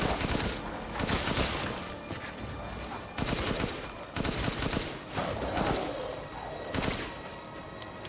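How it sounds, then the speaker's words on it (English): Spread-weapon gunfire in the Resident Evil Village video game, a run of loud, sharp blasts in quick irregular bursts, close up and alone without any talking. "Bit of a spread weapon, but still accurate."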